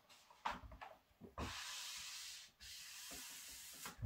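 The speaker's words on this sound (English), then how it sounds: "lightly squeegee back and forth. Flattening it to the surface." A squeegee rubs a vinyl graphic flat onto a vehicle or other surface, with soft scraping strokes and a couple of longer, steadier rubbing passes, close and fairly quiet with no speech.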